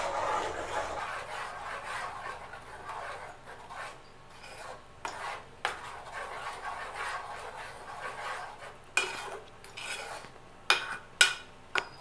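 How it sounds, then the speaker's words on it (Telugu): A sweet coconut and nut mixture is stirred in a pot over a low flame, giving a steady rasping scrape with intermittent sharper clinks of a spoon against the pot toward the end. "అడుగంట నీయకుండా మన మధ్య మధ్యలో కలుపుతూ ఉండాలండి"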